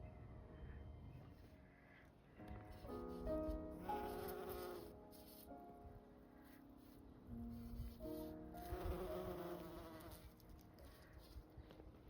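Bees buzz close by around flowers in a small garden, their droning hum rising and fading as they fly past, over a soft outdoor background.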